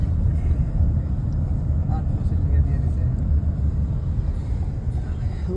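A car drives along a highway in Finland in the early morning, heard from inside as a steady, loud low rumble of road and engine noise with no break.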